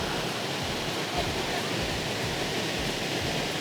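A powerful waterfall in Sikkim with high-pressure water, a dense, unbroken roar of rushing, crashing water, loud and close, constant for the whole stretch.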